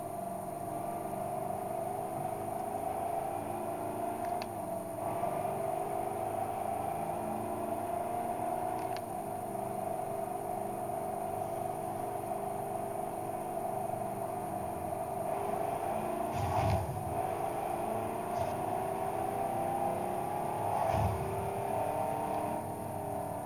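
A 1992 Ford Escort in the Forza Horizon 2 racing game holds a steady, droning engine note for the whole stretch, with a few brief swells and shifts in pitch.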